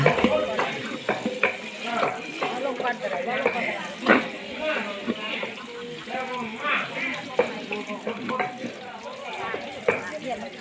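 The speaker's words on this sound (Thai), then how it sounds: "เสียงตะลิว เสียงซอนค่ะกึกกักกึกกัก" Busy cooking sounds: frequent sharp metallic clanks of a spatula against a wok over steady sizzling as garlic fries for Thai stir-fried rice noodles, with a voice talking throughout.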